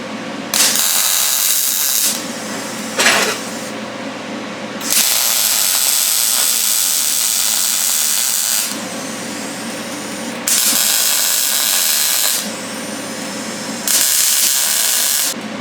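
Arc welding on scrap steel pieces for a pencil holder makes a series of loud, close sizzling hisses, several welding bursts of a few seconds each broken by short pauses, with no talking.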